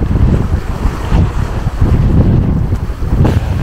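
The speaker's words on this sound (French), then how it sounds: "Ça file à plus de 6 nœuds pour 15 nœuds de vent." Strong gusting wind of about 15 knots roars across the microphone with rushing water along a sailboat's hull moving at over 6 knots near St Vincent and the Grenadines, loud and continuous throughout.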